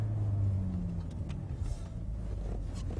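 A Mercedes-Benz 190E 2.3-16 engine rumbles steadily from inside the car during a slow U-turn at a bus interchange, a low continuous drone with no talk over it.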